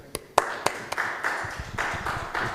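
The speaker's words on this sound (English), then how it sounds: "A round of applause." Scattered hand claps from a small conference-room audience at a philosophy conference, starting as a few distinct slaps and thickening into a light, steady patter of applause.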